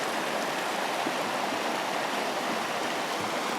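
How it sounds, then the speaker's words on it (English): Lost Horse Creek in Banff National Park rushes steadily over rocks nearby, a constant full hiss and burble of flowing water with no voices. "This is Lost Horse Creek."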